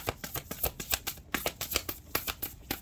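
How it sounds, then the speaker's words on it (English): An 88-card oracle deck is shuffled by hand, giving a quick run of crisp riffling bursts in an even rhythm, close and fairly quiet, with no talking. "there are 88 cards in this deck, so it takes a hot minute to get them all shuffled"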